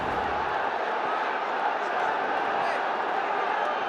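Crowd roar filling a cricket stadium at a Bangladesh Premier League T20 match between Fortune Barishal and Dhaka Capitals, a loud, steady wash of massed voices holding without a break.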